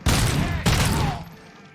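Rapid gunfire bursts in the RoboCop Rogue City video game, loud and dense, with two clustered volleys close together that trail off into a fading echo.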